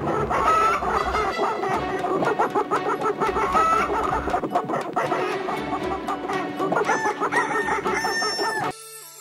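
Cartoon farmyard sounds of a hen and her newly hatched chicks, busy clucking and cheeping with a crow-like call, loud and continuous over a lively music backing, stopping abruptly near the end.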